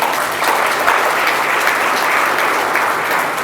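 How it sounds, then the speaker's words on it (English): Conference audience applauding after a professor's presentation on credit markets: loud, close, sustained clapping from a full room, with no voices over it. "I think we should give him another round of applause."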